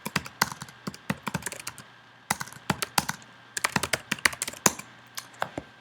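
Computer keyboard typing in quick, crisp clustered bursts separated by short pauses, close and clear over near silence, with no talking.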